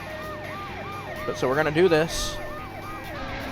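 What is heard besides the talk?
ambulance siren in RE:DRIVER 2 video game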